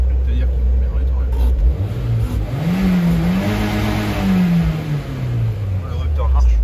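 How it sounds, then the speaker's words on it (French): A turbocharged car engine is revved up against the rev limiter. It is close and loud, with its pitch sweeping up, holding and dropping back over several seconds. "Un rupteur avec un moteur turbo."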